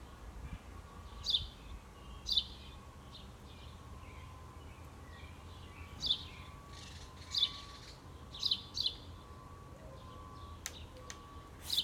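Sparrows chirping outdoors, sounding as short, faint, high chirps that come every second or two over a steady low background hum.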